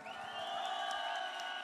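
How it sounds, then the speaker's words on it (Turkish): Concert audience in Macedonia cheering and applauding the musicians at a live show, a dense steady crowd roar with whoops, fairly distant. "Önce müzisyen arkadaşlarımı alkışlar mısınız lütfen?"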